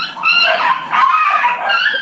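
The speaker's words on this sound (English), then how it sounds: "my dogs probably they're hungry" Dogs yip and whine in high, overlapping bursts nearby, a continuous excited chorus of short barks and whimpers.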